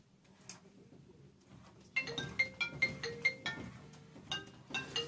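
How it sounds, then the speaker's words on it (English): A short electronic phone melody plays in quick repeated chiming notes at moderate volume, following a brief quiet stretch. "Let me turn off my phone real quick."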